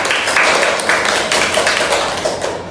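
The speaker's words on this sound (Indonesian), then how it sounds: "Kita boleh tepuk tangan untuk kita semua." Students in a classroom clap their hands together in a brief, quick round of rhythmic claps, close and fairly loud.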